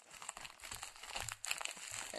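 Scissors cut open a plastic mail package, giving close, quiet bursts of crinkling and tearing plastic in irregular snips and rustles.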